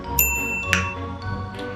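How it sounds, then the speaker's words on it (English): A bright notification bell ding rings out twice, crisp, with shimmering high overtones and quick decays, over a low background hum. "Hit that little notification bell so you could be notified the next time that I upload."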